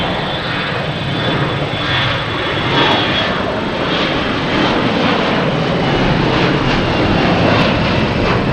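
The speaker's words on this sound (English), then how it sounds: "next taking off is a A321 Delta heading to Detroit" A Delta Airbus A321 jet taking off from Boston Logan Airport, bound for Detroit, its loud continuous engine roar swelling gradually over several seconds, with no voices.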